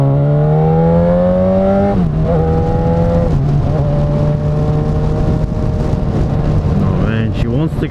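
A 2012 Yamaha FZ6R motorcycle engine revs up and down through several pitch shifts, its intake roaring steadily and loudly up close, with a voice under it.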